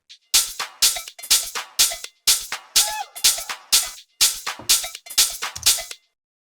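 Layered hi-hats in a busy pattern, open and closed hits stacked into bright, hissy bursts with short gaps, played close and loud for about six seconds.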